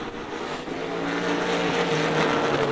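Race cars running close together in a bracket heat at Rockford Speedway, a steady loud engine roar that swells slightly as the pack passes, with no talk.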